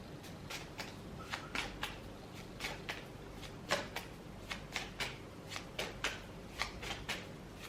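Tarot cards being shuffled and handled in close, quiet, regular flicking riffles and soft slaps that repeat about twice a second, with no voice.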